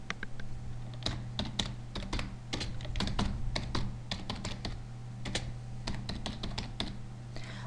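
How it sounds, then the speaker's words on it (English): Keys clatter steadily on a computer keyboard as a campaign name is typed into G-Lock Analytics email software, a quick irregular run of close, crisp clicks over a low steady hum. "Type a campaign name."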